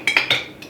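A jar lid sealing on a glass jar of freeze-dried food, heard as a few quick, faint metallic clicks and pings in close succession, close up and alone.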